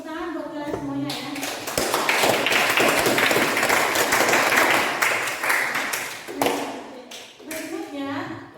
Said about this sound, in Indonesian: Tepuk tangan buat kalian semuanya ya.